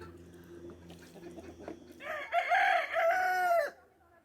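Hens at an animal sanctuary, many of them rescued from hatching eggs, clucking softly at first before a loud close rooster-like crow rings out for over a second, no talking.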